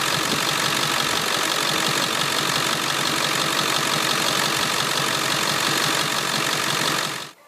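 A Ford 7.3 Powerstroke diesel engine, just reassembled after an oil leak repair at the high pressure oil pump or line, runs steadily with a loud, even clatter, then cuts off abruptly at the end.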